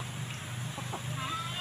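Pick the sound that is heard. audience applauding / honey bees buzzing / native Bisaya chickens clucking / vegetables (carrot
native Bisaya chickens clucking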